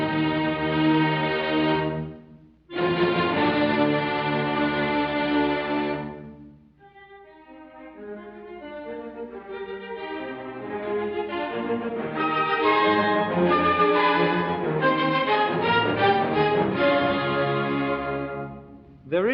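An orchestra plays a Beethoven symphony excerpt in which a sketch stands in as the development section. Sustained full chords are broken by a short gap, then a quieter, busier passage builds back to loud sustained harmony.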